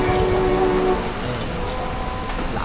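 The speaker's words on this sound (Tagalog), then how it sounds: "Ang lakas pa rin ang ulan eh." Heavy rain pouring outside a 7-Eleven in Bulacan during a motorcycle loop ride, a dense steady hiss with a humming tone early on, loud and continuous with no talk.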